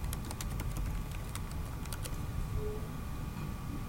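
A website link is typed on a computer keyboard in quick, close clicks, a burst of keystrokes over a low background hum before the tapping stops.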